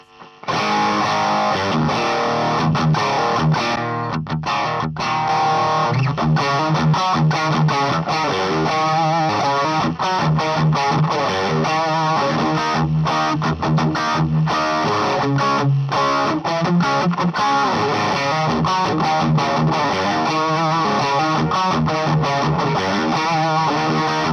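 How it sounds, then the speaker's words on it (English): Electric guitar played through a Rangemaster treble booster pedal on a pedalboard, a loud, continuous distorted tone with a dense stream of picked notes sustained for the whole stretch, no voices. "Then I have a Rangemaster treble booster."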